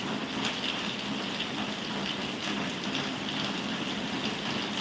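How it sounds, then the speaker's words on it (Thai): Heavy rain pours down steadily as a dense, continuous hiss and gush that stays constant for the whole stretch, with no voices heard. "ฝนตกอย่างแรงนะครับ"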